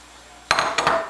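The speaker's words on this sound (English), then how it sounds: "I will add my chopped onions to my fry pan" Chopped onions tumble into a fry pan on a stove at medium heat, giving a sudden clattering impact and a second burst of clinks and scraping, close and fairly loud after a quiet start.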